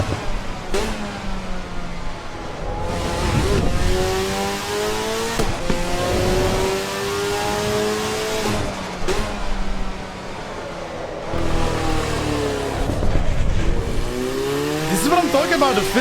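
Race car in the Assetto Corsa EVO racing game, its engine revving up and down through gear changes with shifting pitch sweeps and tire noise, loud and continuous while a player talks over it.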